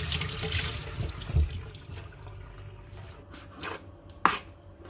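Running water splashes in a sink as scallions, coriander and mint leaves are rinsed, with a few soft knocks and clatters of handling in between.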